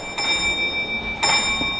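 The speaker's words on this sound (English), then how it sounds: "signalman A acknowledges that by repeating 2 pause 1 beats on the bell" Railway signal box block bell at a railway museum struck twice, two bright ringing strikes about a second apart with sustained metallic overtones, close and clear with no talk.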